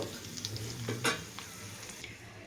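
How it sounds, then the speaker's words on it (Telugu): Dry fruits fry in ghee in a pan while being stirred, giving a faint sizzle broken by a few scraping, clinking strokes of a spoon against the pan. "వేగుతున్నాయండి, గోల్డెన్ కలర్లోకి వచ్చేసాయి."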